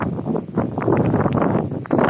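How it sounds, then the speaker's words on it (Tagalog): Strong wind buffets the microphone in a steady, loud low rumble with gusty fluctuations, no voices present. "Malakas ang hangin dito eh."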